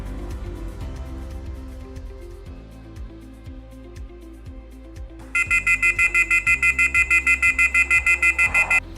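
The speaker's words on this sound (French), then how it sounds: "Lorsque le vélo va se déplacer, l'alarme va retentir." A BikeTrax GPS tracker bike alarm goes off partway through, a loud rapid pulsing electronic beep repeating steadily after a stretch of quieter background rumble.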